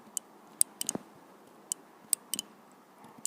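Sharp plastic clicks as a connector on a motorcycle regulator for a Yamaha Tmax, Tracer or FJR snaps into place: a handful of crisp, close, quiet snaps in small irregular clusters over a low background.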